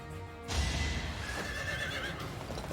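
A horse in a video game, Fire Emblem: Three Houses, whinnies loudly and shrilly for a couple of seconds, with hooves clopping softly underneath.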